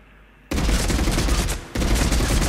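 Heavy-recoil weapon in Mass Effect 3 firing two loud, dense bursts of rapid gunfire, the first running about a second and the second starting right after a brief gap, close and alone.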